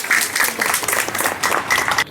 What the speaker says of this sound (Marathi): त्या सगळ्या आपल्या सेवेकऱ्यांच्या करता एकदा जोरदार टाळ्या.